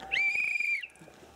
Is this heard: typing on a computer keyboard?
no